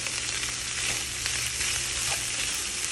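Red onion hits a hot frying pan of seasoned meat for a three-meat pasta, giving a loud, dense, steady sizzle that fills the whole stretch.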